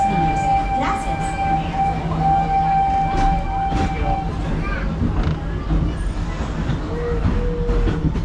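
Wildlife Express train rolling on rails toward Rafiki's Planet Watch at Animal Kingdom, a steady rumbling clatter with faint squeals throughout, tonal ride-car hums and occasional clanks, no talk in the clip.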